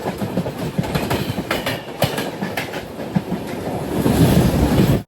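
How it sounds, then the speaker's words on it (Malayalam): Steady rumble and clatter of a train rolling into Aluva railway station, wheels clacking over rail joints, growing louder toward the end. "ട്രെയിൻ ഇപ്പോൾ ആലുവ റെയിൽവേ സ്റ്റേഷനിലേക്ക് എത്തുകയാണ്"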